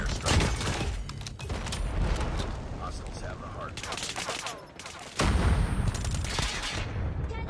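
Gunfire from the Call of Duty Mobile game, including an USS9 weapon, comes as dense rapid bursts and volleys mixed with game effects. A loud burst opens again after a brief dip, with other sounds layered over it.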